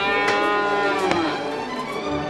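A cow moos in one long, loud, sustained low call, heard alone and close with no talking, used as a sound effect in a read-aloud fairy tale.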